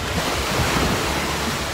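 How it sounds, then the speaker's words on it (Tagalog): Continuous roar of surf with wind rushing across the microphone, a steady broadband wash of waves close by. "Ang lakas nga lang ng alon ngayon."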